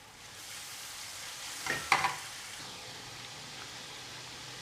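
A masala of chili flakes, salt and two tomatoes fries in a pan as a soft, steady hiss of sizzling. One brief clatter of stirring comes midway, and otherwise the hiss runs on alone at a modest level.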